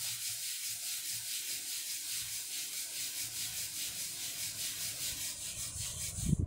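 Paper is rubbed firmly by hand while making a Christmas calendar craft: a rhythmic, steady scrubbing swish repeating at an even pace, close and fairly loud, ending in a brief clatter.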